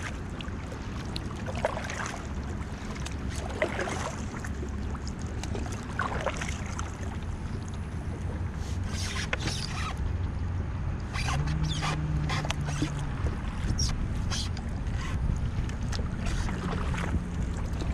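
A homemade 11-foot foam kayak is paddled on open water, with soft, repeated paddle strokes and splashes over a steady wash of wind noise.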